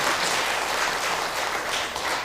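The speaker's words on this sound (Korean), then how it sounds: "우리 박수로 한번 환영하겠습니다." Steady, full applause fills a church sanctuary as the congregation welcomes a family attending the anniversary Sunday worship service, even and continuous throughout.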